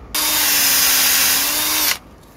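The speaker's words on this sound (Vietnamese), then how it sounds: "giờ mình tiến hành là mình khoan cái lỗ này" A power drill bores a 10 mm hole in one loud, continuous whining burst of nearly two seconds, starting and stopping abruptly, with no speech.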